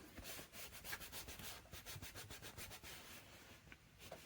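Paper rubbed against an index card for a small 4x4 inch journal: a quiet, close, steady scratchy rubbing in quick back-and-forth strokes, alone with no talk.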